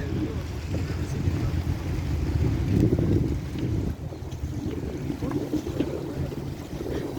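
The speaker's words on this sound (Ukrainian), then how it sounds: "Вітерець свіжий з моря." Fresh evening sea breeze and waves along the Thessaloniki waterfront in Greece, a steady blustery wind rush buffeting the microphone with low surf wash underneath, continuous and fairly loud throughout.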